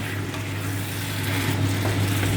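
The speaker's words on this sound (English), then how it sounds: "now the prawns go in" Prawns going into a hot pan for biryani give a steady, dense sizzle and crackle close up, continuous throughout with a low hum beneath and no voices.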